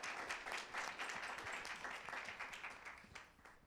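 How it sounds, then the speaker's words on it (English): A room of panel attendees at a San Francisco Climate Week 2023 event gives a round of applause, uneven individual claps audible in a moderately faint, fluttering burst that fades over a few seconds. "Let's give her a round of applause."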